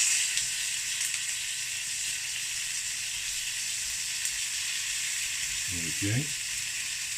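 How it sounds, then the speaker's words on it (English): Pork belly sears in a hot pan with a steady, soft sizzle, broken near the end by a brief scrape as a piece is turned, while a voice says a few quiet words. "We need to sear all of the sides,"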